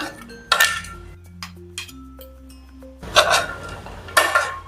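Turmeric, ginger and green chilli are mixed in a bowl with a spoon, producing a few sharp metallic clinks and scrapes against the bowl separated by quiet pauses. Nobody speaks.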